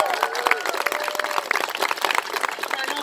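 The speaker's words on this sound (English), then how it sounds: "Big round of applause to our singer and our fancy dancer, Teddy Bison." An audience claps in a dense, sustained round of applause for a singer and a fancy dancer at a hoop dance performance, with a voice speaking over the clapping.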